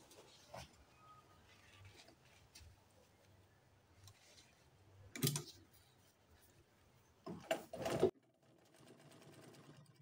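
Sewing machine stitching the collar and neckline of a double-breasted jacket in short separate bursts, a quiet close whirr that starts and stops with pauses between runs.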